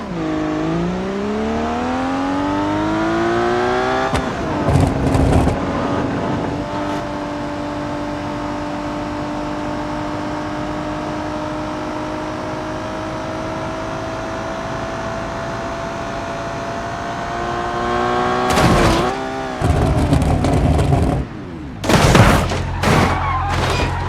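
DeLorean sports car in BeamNG.drive accelerating down a country road toward a ramp, engine note rising steadily and holding a loud drone, then sharp crashing bursts and clattering impacts as it lands near the end.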